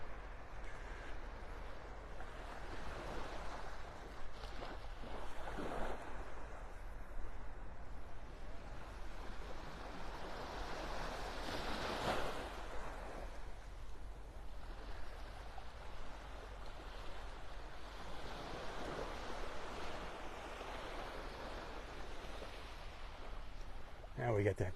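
Ocean waves washing onto a beach at low tide in North Naples, Florida, a steady continuous surf with light wind noise across the microphone and someone talking over it.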